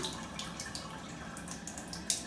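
Tap water running at a kitchen sink while a drinking glass is emptied and rinsed, a soft steady stream with small splashes and one sharper clink or splash near the end.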